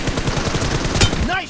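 Rapid automatic gunfire in a shooting video game, a dense burst of loud, close shots rattling continuously for over a second before cutting off, with a brief tonal game effect at the end.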